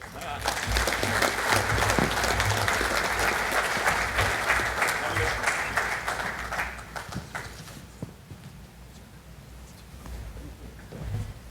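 Sustained applause from a large audience at the opening of a New Zealand–Fiji business council conference, loud and dense at first, then thinning and fading toward the end.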